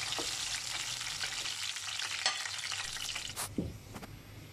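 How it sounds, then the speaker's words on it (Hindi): A tadka of garlic, curry leaves, fenugreek seeds and red chillies crackles in hot oil for a palak methi kadhi, a loud, continuous close-up sizzle with bursts of spattering and stirring. "तड़के में से जब तक ये आवाज़ ना आए तो मज़ा ही नहीं आता"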